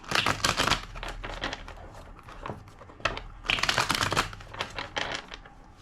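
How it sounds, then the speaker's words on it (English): Rapid riffling bursts of card shuffling, two main flurries of crisp crackling with a short pause between, close and fairly loud. "Two more shuffles."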